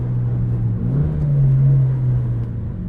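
A track-prepared Mitsubishi Lancer Evolution IX SE drones along under steady throttle, its engine a close, low, continuous hum that swells briefly and settles, with no voices over it.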